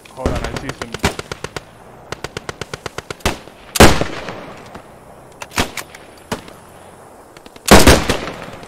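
Video game gunfire crackles in rapid bursts of automatic shots, with several louder heavy blasts standing out among the volleys.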